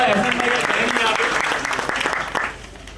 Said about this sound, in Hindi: माइक्रो के लिए जोरदार तालियां